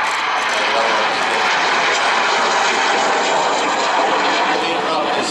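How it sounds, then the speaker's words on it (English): A fixed-wing aircraft roars past in a steady, loud, continuous engine drone during an air show display at Wings Over Illawarra, with commentary over a public address system beneath it. "The aircraft is flown today by Air Chief Benson"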